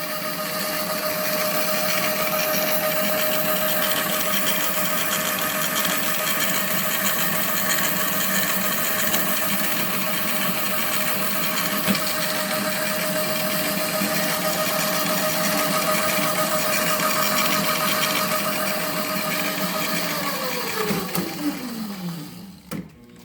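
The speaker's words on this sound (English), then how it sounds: "An infinitely adjustable DC motor. Gotta love them. Plenty of torque." A power hacksaw driven by an adjustable DC motor runs at max speed, a steady whirring hum with a constant tone for about twenty seconds before the motor winds down and stops.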